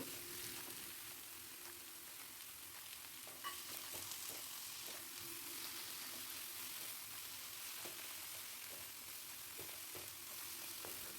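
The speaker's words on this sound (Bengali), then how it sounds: "টমেটোটাও দিয়ে আমি ভালো করে একটু নাড়াচাড়া করে নিচ্ছি" Chopped tomato stirred in a frying pan for a Bhola bhetki fish dish, with a faint, continuous soft sizzle and occasional light scraping taps.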